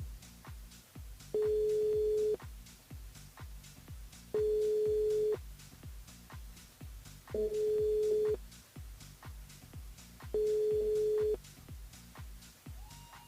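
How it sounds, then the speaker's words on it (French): A telephone rings out repeatedly while a radio show calls a listener: four steady one-second tones spaced about three seconds apart, heard over a quiet background. "On appelle Davina du côté de Trois-Bassins."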